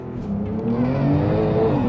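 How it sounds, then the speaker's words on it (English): Porsche Panamera Turbo S with 782 hp and an 8-speed PDK gearbox launching from a standstill under launch control, its engine note rising steadily as it accelerates hard, loud and close from inside the car with no talk. "Left foot is hard down on the brake, right foot on the accelerator, launch control activated."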